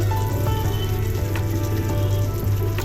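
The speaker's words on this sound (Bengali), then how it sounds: "তিনটে পেঁয়াজ আমি এখানে দিয়ে দিলাম তেলের মধ্যে দিয়ে একটু নাড়াচাড়া করবো টমেটো দিলাম" Sliced onions and tomato fry in hot oil while being stirred, producing a loud, dense, unbroken sizzle over a steady low hum, close and without speech.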